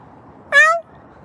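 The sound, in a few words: cat meowing outdoors on a windy night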